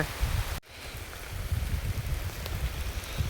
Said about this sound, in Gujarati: ધીમો ધીમો વરસાદ આવે